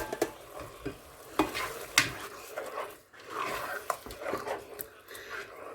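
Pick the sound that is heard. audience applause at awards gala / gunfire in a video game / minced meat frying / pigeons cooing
minced meat frying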